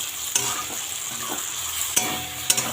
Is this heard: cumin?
yes